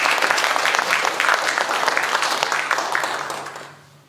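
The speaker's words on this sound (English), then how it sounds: "Can we just give a round of applause to all the tech people?" An audience at a book festival reading applauds the tech crew, a steady wash of dense clapping that holds for several seconds before tapering off quickly at the end.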